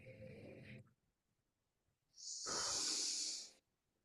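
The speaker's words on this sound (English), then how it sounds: "Take a big deep breath there." Someone takes a big, deep, audible breath, drawing in air with a hissing rush that lasts about a second and a half. It follows a short spoken phrase and a pause, heard close and alone.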